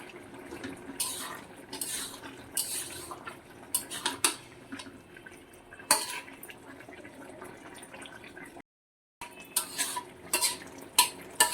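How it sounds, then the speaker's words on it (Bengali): A spoon stirs greens into a thick curry in a pot, close scraping and wet squelching strokes in irregular bursts, with one brief pause near the end before the stirring resumes. "শাক দিলাম, ভালো করে লাড়াচাড়া করে দিলাম"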